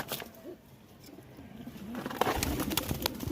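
A pigeon coos softly a few times against a steady background hum, with some louder rustling noise toward the end.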